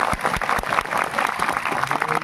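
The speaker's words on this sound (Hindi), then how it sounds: "जोरदार ताली बजाओ।" Short burst of audience clapping at a public speech, a loud, close patter of hands that continues steadily for a couple of seconds.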